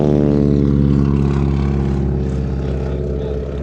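A 46 Aviation wing-walking biplane flies past slowly at an airshow with a woman standing on the wing. Its propeller engine drones loud and close, then eases off slightly as it passes.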